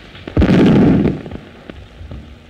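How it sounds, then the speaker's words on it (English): An artillery shell explodes in the distance in a 1931 film, a single heavy muffled boom that swells quickly and rolls away into a low rumble, with a few faint thuds trailing after. "But what were those explosions? Shells, my dear."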